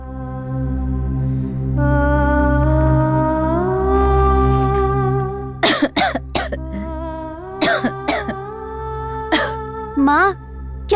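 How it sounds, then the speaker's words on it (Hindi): A woman in a Hindi devotional drama coughs repeatedly in harsh, uneven bursts that break in after a sustained musical tone, with breathy gasps between coughs, close and loud. "रात से ही बहुत खांसी हो रही है, सांस फूल रही है"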